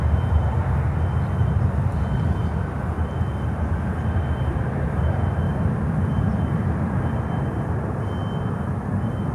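A heavy jet taking off at Miami airport, a loud, continuous broadband roar and rumble that holds steady for the whole stretch with no talking.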